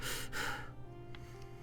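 An axeman resting on his axe breathes heavily: one sharp, close gasping inhale followed by a fading, quieter exhale, brief and intimate.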